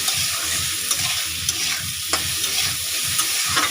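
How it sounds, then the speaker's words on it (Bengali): Tomato is stirred in a frying pan over a steady sizzle, with a spatula scraping and tapping the pan in a regular rhythm, close and alone without any speech. "টমেটোটা দিয়েও একটু নাড়বো"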